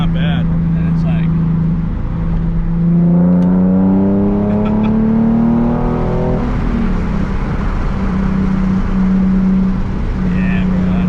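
A Nissan 370Z Nismo fitted with an AAM Competition short tail exhaust, a loud close low engine drone that rises in pitch as it revs and then settles back to idle, with people talking over it.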